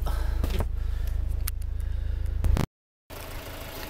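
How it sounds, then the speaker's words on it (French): The 3-litre engine of a Maserati Ghibli hybrid, rated at 330 horsepower, runs at a steady idle with an even, close mechanical hum. The sound breaks off briefly and then resumes. "Et ça c'est le moteur Maserati 3 litres, moteur 3 litres"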